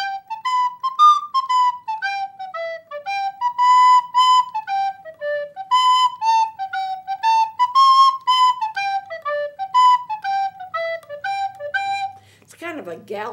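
Dotted eighth and sixteenth notes played in a lopsided, galloping long-short pattern as a clear melodic line that rises and falls, close and steady, with a brief noisy burst at the very end.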